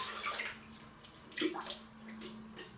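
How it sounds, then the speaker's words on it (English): Hands rinsed under a running tap before lathering shaving soap: a steady close wash of running water with splashing surges as the hands move through the stream, moderately loud and alone. "Just going to rinse the hands."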